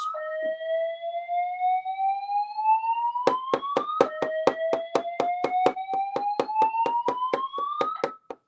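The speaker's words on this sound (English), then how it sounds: "An alarm has been activated in this building." A building fire alarm sounds loud and close: a rising electronic whoop sweeps upward twice, then a rapid train of sharp beeps or clangs pulses alongside the repeating sweep.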